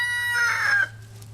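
A backyard chicken gives one short, strained cluck or crow-like call lasting under a second, close and clear with no talk.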